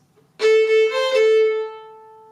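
A single violin plays a quick run of notes, a few fast strokes blending into one sustained tone that rings on and fades out; no talking.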